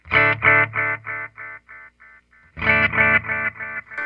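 An electric guitar strum through a Donner Yellow Fall delay pedal with the echo dial turned fully up repeats as a train of distinct echoes that fade gradually, then a fresh loud strum starts the repeating echoes again.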